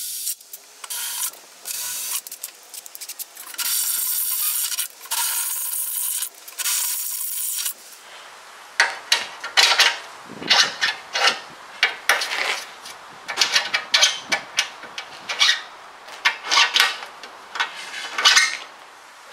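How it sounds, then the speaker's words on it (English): A drill bores 3/4-inch holes through an aluminum radiator support for a 73-87 Chevy C10: a steady grinding whine at first, then a run of short, close bursts of cutting and scraping. "So let me go grab the drill and we'll punch those holes out."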